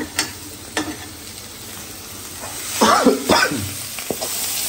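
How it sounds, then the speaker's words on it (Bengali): Bitter gourd and potato fry in a pan with a low sizzle, while a spatula scrapes and stirs in a few sharp strokes and a brief cluster of clatter midway. "তার পছন্দের করলা ভাজি আলু দিয়ে হয়ে গেছে"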